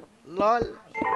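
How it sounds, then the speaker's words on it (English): A mobile phone gives off short tonal beeps during a Minecraft Build Battle session, with a person talking over them and laughing briefly. "That was my phone."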